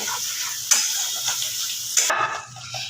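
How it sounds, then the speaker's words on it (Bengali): Spice masala fries on a medium-low flame, a fairly quiet hissing sizzle broken by two sharp clinks of a utensil against the pan. "মশলাটাকে আমি এই সময় একটু মিডিয়াম টু লো ফ্লেমে রেখে ভালো করে কষিয়ে নেব"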